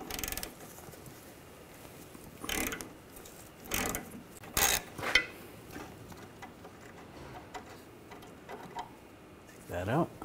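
Intermittent clicking of a ratchet with a 13mm socket loosening rear suspension bolts on a 2004-2009 Audi A4 Quattro, short bursts of pawl ticks and faint metal clatter over a quiet background, with some talk in the clip.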